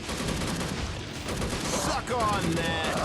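Gunfire from a shooter video game aimed at a boss, a dense, continuous rattle of shots with a few sharper metallic effects toward the end, loud and close throughout.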